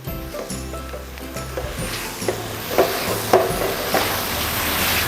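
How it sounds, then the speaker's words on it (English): Shrimp curry sauce being stirred in a hot pan, a steady sizzle under scraping utensil strokes that knock against the pan at an irregular pace, close and moderately loud. "And keep stirring. Yes. Keep stirring. We want the sauce thick."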